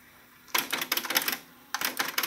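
A Sony MHC-RG222 stereo cassette deck rewinding tape, heard close as two bursts of rapid, rattling mechanical clicks separated by a short pause.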